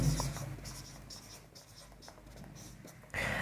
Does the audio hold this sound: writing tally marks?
yes